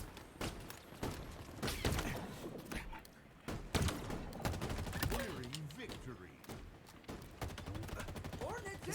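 Assault rifle gunfire in Halo Infinite, rapid bursts of sharp shots in uneven volleys with thuds mixed in, moderately quiet, with a voice talking intermittently.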